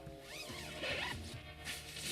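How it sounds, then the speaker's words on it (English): The door zipper on a Naturehike Star River 2 backpacking tent is pulled around the door in a couple of quick, close, rasping zips with brief pauses, and no voices. "the door zips around"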